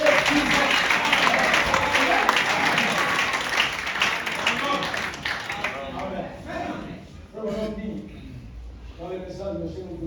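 A church congregation applauds and cheers loudly during a sermon, a full wash of clapping that fades after a few seconds, leaving voices speaking and calling out.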